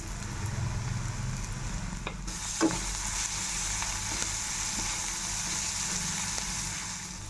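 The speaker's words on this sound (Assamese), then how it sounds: "পিঁয়াজখিনি ইয়াতে ৰঙা কৰি ভাজি ল'লোঁ।" Onions and small shrimp fry in oil in a wok, a continuous close sizzle with a single scraping knock from stirring partway through.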